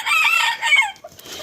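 A rooster crows loudly and close by in one short call, followed by faint hen clucks as it fades.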